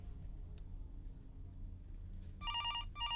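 A landline telephone rings inside a house in the horror video game Fears To Fathom, with two trilling electronic bursts near the end over a low rumbling background and faint chirps.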